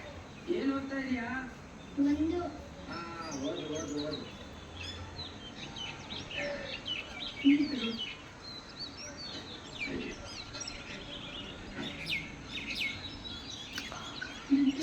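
Lively evening bird chirping and twittering fills the scene, with scattered louder calls and some human voices talking intermittently beneath.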